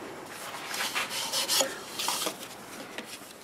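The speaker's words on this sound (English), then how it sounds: "get this all sanded up" Sandpaper rubbing against a spinning apple wood turning on a lathe, a steady close rasping with brief swells and fades, no voices.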